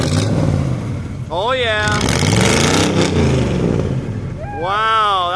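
A Chevy truck engine revs at a truck show, rising and falling in pitch with sweeping whines, loud and close, while people talk and exclaim over it.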